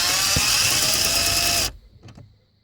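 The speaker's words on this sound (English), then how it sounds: "Alright, so I got my drill master in there, onto the bolt." A Drill Master power drill on a long extension whirs steadily at close range for about a second and a half while loosening a bolt on a Mazda, then stops abruptly, followed by a couple of faint clicks.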